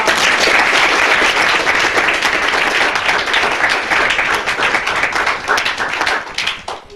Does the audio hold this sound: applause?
yes